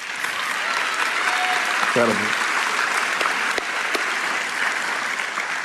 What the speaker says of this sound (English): And thanks for clapping